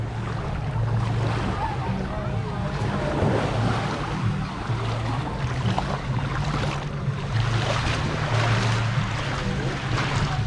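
Sea water at Paignton harbour on the Devon seafront in June, a steady broad wash of waves with wind noise running continuously, close and fairly loud, with no talk.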